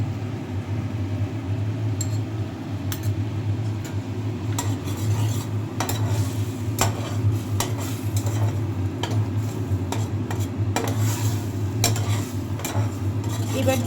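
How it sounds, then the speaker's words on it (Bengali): Sour curd being stirred into a spice masala in a pan for a curd and brinjal dish, producing continuous close scraping and clattering of a spoon against metal with faint sizzling underneath. "এবার টক দইটা আমরা এখানে মিশিয়ে দেবো।"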